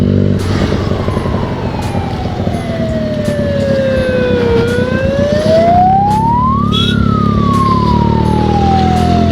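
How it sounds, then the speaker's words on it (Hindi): An ambulance siren wails loudly nearby, its pitch sliding down and then swooping back up as it passes over a steady rumble of engines and traffic. "पहले एम्बुलेंस को जाने दें"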